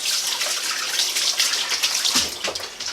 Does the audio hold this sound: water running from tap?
yes